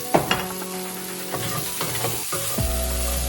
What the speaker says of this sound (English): we're just going to saute the mushrooms like so, just for about a minute or two